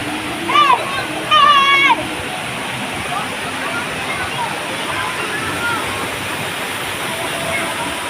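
Water from a very large mountain spring pours and splashes steadily in a constant rushing wash, with a voice briefly audible twice over it near the start.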